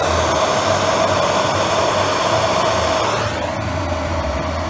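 A propane torch burns at maximum throttle with a loud, steady, roaring hiss close to the mic. It stays continuous throughout and eases slightly near the end, with no talking.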